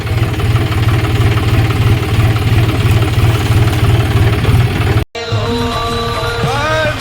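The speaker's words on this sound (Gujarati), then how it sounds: "હવે ટ્રેક્ટરને અંદર મૂકી દઈએ." A tractor engine idles nearby with a loud, steady low throb for about five seconds, then cuts out abruptly before a fainter, altered rumble with some higher tonal sounds continues.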